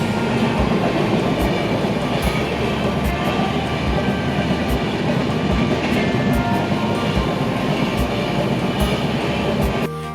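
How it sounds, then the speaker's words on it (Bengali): A train speeds past a closed rail gate beside tea gardens in North Bengal, a loud continuous rumble with rhythmic clickety-clack of wheels on rail joints, filling the whole stretch before cutting off abruptly at the end. "ছুটে চলেছে ট্রেন।"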